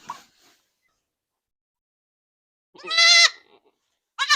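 Newborn Mini Nubian goat kid bleating, a short faint cry at the start, then a loud, clear, harmonic bleat around the middle and another brief bleat at the end, with silence in between.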